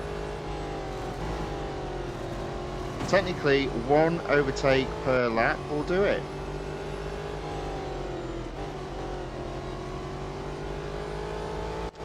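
Race cars roar continuously with engine drone in the Real Racing 3 mobile game during a multi-lap race, under a voice talking over the middle of the clip.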